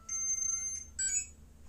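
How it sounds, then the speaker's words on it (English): A power tool gives two close, bright electronic beeps as it is switched on, the first longer than the second, clear against a quiet background. "you're going to hear a beep."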